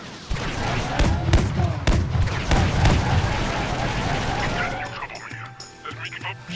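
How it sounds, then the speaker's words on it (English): Missiles fire in quick succession from a starfighter in the space game X3, a run of loud, sharp launches and explosions over a rumbling engine drone before fading to quieter electronic tones. "So here goes all 3 missiles, 4 missiles."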